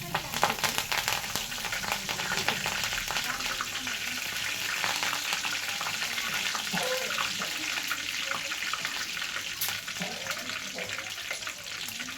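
Curry leaves and garlic crackle and sputter in hot oil in a loud, dense, continuous sizzle that holds steady throughout, with faint talk in the background.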